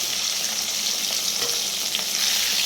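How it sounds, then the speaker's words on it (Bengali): Eggplant and potatoes frying in hot oil, a steady dense hiss and crackle throughout, close and fairly loud, with no voices. "তারপরে একে একে বেগুন আর আলুগুলো আমি এর মধ্যে ছেড়ে দিলাম"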